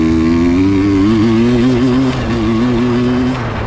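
A 150 dirt bike engine drones steadily on a trail ride, loud and close, holding a fairly even mid-range pitch with slight dips and no big revving.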